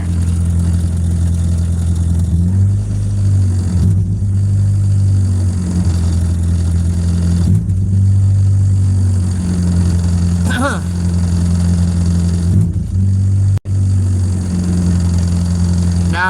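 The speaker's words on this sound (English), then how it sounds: "I'm blipping the throttle, letting off" Mazda Miata engine on a tuning drive, humming steadily near and loud while the throttle is blipped and let off, giving brief rises and dips in pitch, with someone talking over it.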